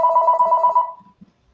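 A telephone rings once with a bright, warbling electronic trill lasting under a second, loud and close, then cuts off into quiet.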